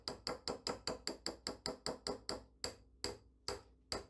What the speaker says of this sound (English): Give it some really good solid taps. Get all that excess chocolate off.